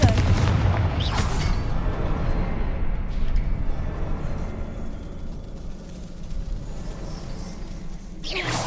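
A Confringo fire spell explodes in Hogwarts Legacy, heard as a loud booming blast that rolls into a dense, rumbling roar and fades slowly, with a sharp crack at the very end.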